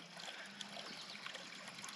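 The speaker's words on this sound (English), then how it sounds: "Got about a 2-inch pump's worth of water flowing in there." Faint, steady trickling of rainwater running into a flooded patch of farmland, a soft continuous wash with light gurgles and no voices.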